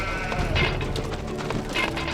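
Goats bleat in the real-time strategy game Empire Earth: a few short, wavering bleats stand out from a busy, continuous layer of game ambience, with no talk.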